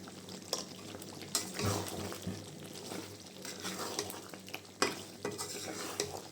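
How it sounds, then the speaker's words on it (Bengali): Meat being stir-fried for basmati biryani, a low sizzle under busy scraping and stirring of a spoon against the pot, with occasional metallic clanks, close and fairly quiet. "মাংসটা কষিয়ে নিচ্ছি আমি।"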